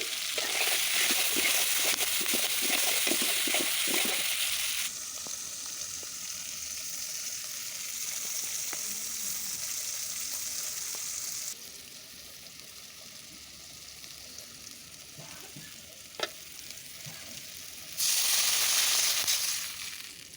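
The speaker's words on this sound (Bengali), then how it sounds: "তেলের সঙ্গে আলুটা আমি একটু ভাজা ভাজা করে নিচ্ছি" Potatoes sizzle and crackle in hot oil, with a few pops and scrapes; the frying swells loud, softens for a while, then surges again near the end.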